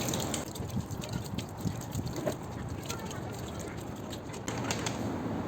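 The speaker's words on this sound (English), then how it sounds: "you can then squeeze the roller, squeeze out all of the paint, and keep doing that until the water runs clear" Paint sponge roller rinsed under running water, a steady close gush and splash with soft squeezing sounds throughout, fairly loud and continuous.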